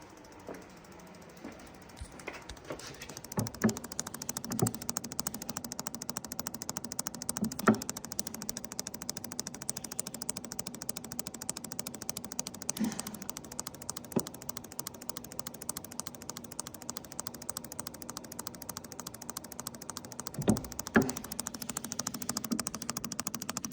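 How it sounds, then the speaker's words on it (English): A Ford V8 on a Speeduino setup with its ignition coils firing while the engine cranks at about 200 RPM, giving a fast, steady stream of sharp ticking snaps with a few louder clicks, heard close and without talk. "But now all you're hearing is the coils firing."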